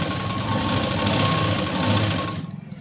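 A sewing machine runs steadily while stitching a fine, delicate round knot trim, a continuous close mechanical whir with rapid rhythmic needle chatter that cuts off abruptly near the end.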